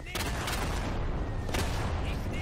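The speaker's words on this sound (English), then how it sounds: "So that's artillery." Artillery fire from the World War II shooter game Day of Infamy: dense, rumbling explosions and crackling gunfire fill the whole stretch, with a couple of sharper blasts standing out over the continuous loud battle noise.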